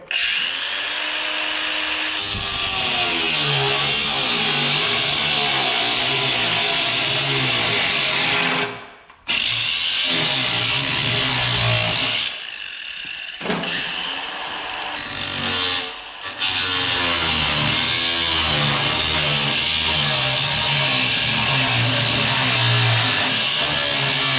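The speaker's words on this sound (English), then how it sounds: "I'm just going to use an abrasive wheel to cut these corners out of here." A 1/16 inch abrasive cutoff wheel grinds through metal corners, a loud continuous whine running almost without a break, with a short stop near nine seconds and a brief dip around thirteen to sixteen seconds.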